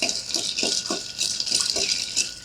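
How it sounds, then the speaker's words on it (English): Ice rattles and clinks steadily as a Manhattan cocktail is stirred in a glass, a continuous close swirl with light rhythmic knocks and no talk. "I'm gonna stir this for like 30 seconds"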